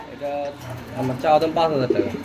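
Pigeons in a large cage coo in soft, repeated low calls, rising louder near the middle, while people talk nearby.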